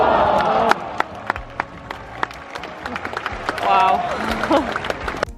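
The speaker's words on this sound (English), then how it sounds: "hearing everyone cheer and feeling everyone just get super excited about tennis" A lively crowd at the Australian Open tennis cheers and applauds, with bursts of clapping and excited voices swelling and fading over several seconds, including a louder surge near the end.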